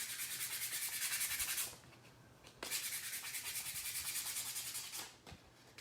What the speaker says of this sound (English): why are we sanding this?